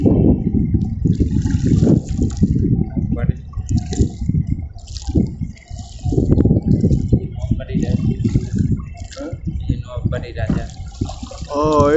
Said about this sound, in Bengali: এই যে পাশ দিয়ে একটা ট্রলার বয়ে গিয়েছিল, তো সেজন্য হচ্ছে ঢেউ খেলতেছে